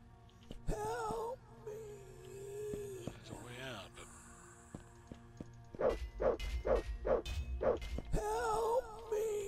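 Dog barking in the vampire RPG Bloodlust 2: Nemesis, a run of five or six sharp, close barks with a short yip, set among panicked game voices and moans.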